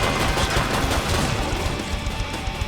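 Rapid gunfire in the shooter game Killing Floor 2, with dense overlapping shots and close combat noise filling the whole stretch at a steady, loud level.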